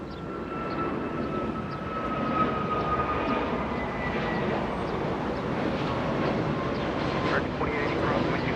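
A FedEx jet arriving at Los Angeles International Airport from Portland, its steady engine roar filling the scene at moderate distance, with a thin whine running over broad rumbling noise throughout.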